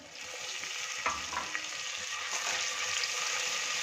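Steady, loud sizzling of water hitting a hot pan with cumin and ginger-garlic paste, hissing continuously with a few small pops and spatters.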